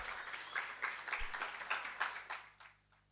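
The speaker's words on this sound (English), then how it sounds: "Let's have a huge round of applause for Sir." An audience at a college entrepreneurship summit launch event applauds a guest invited on stage, a moderate burst of clapping with rhythmic swells that fades out near the end.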